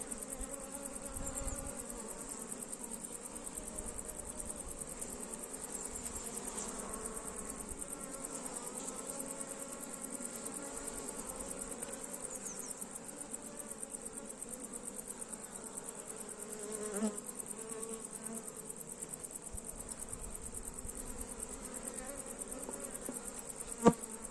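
Honeybees hum in a steady, continuous buzz at an open hive during routine hive inspection, with no voices over the sound.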